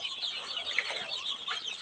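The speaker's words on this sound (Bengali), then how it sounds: "দেখেন এখানে দুইশো কাছাকাছি অরিজিনালি দেশি মুরগির বাচ্চা" About two hundred native country chicken chicks, ten to eleven days old, fill the air with dense, continuous high-pitched peeping and chirping at close range, with no talking.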